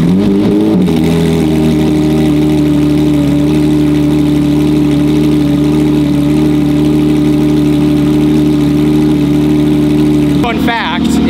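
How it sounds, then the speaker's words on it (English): A Porsche Cup race car engine fires up in a race shop and holds a loud, steady, throbbing idle, with a sharp rev rising near the end; voices talk faintly under the noise. "Next, we start up the Cup car."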